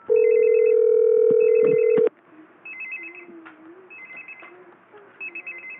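An L.T.E ST-37V hospital telephone rings in repeating electronic trill bursts alongside a loud steady tone that stops after two seconds, the ringing continuing faintly beneath a quiet voice.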